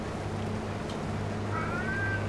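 Cats meow indoors in the morning, one drawn-out meow rising over a steady low hum of room and computer noise.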